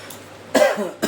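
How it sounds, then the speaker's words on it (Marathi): A woman coughs a few times in a home kitchen, with a short burst of coughing followed by a single brief cough, close and clear against quiet background. "थोडा खोकला लागलाय"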